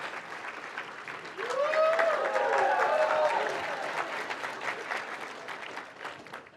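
A keynote audience bursts into applause and cheers, a dense wash of clapping that builds quickly, holds steady and then slowly thins, with crowd voices mixed in.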